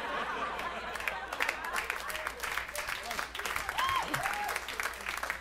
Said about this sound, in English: Yeah, clap to that